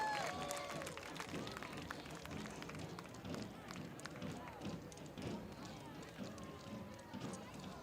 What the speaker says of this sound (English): Let's give up a big round of applause for the twirling medallions.